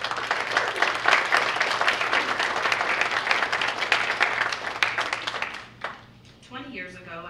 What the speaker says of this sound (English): let's give a round of applause to those in the audience who've supported you through this journey